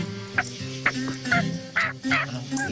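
Repeated sharp, nasal yelps of a turkey hen imitated by a person's voice, short calls spaced about half a second apart, close and fairly loud.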